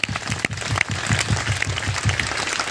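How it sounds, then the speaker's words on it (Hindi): Audience applause at a gathering in Samastipur, steady hand clapping with sharp individual claps, fairly close and sustained throughout, no talk over it. "चलिए अविनाश सर के लिए जोरदार ताली होना चाहिए"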